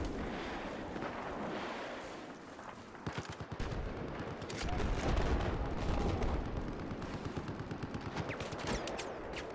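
Dense gunfire in the video game Battlefield 4, with rapid automatic bursts and sharp shots packed together. The volleys grow louder and heavier toward the middle and keep going without a break, and nobody speaks.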